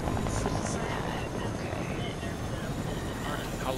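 A video game helicopter's rotor thrums loudly and steadily throughout, a dense whirring roar that never lets up.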